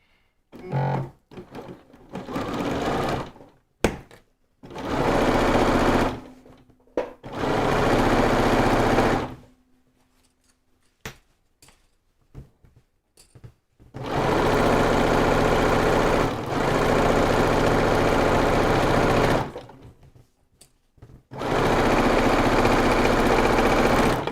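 A sewing machine set to a longer stitch length runs down each side of fabric in several loud, sustained bursts, stopping and starting with quiet gaps and small clicks between runs.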